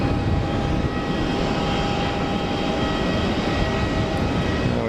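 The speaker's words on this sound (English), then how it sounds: "Alex, Air China's to Beijing, pinging for departure" Air China jet airliner pushing back for departure at Geneva Airport, a steady broad engine roar with a faint whine, held at constant loudness throughout and heard alone.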